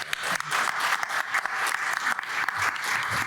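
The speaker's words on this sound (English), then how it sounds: "if we could just have one round of applause for the whole group" An audience claps as a whole group for early career researchers and students at a statistics society presentation event, a dense, steady round of applause filling the clip at moderate volume.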